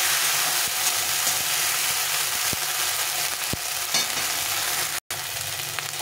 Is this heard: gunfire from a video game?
no